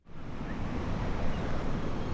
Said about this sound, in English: White water tumbles over the chain of rocks near the northernmost tip of St. Louis.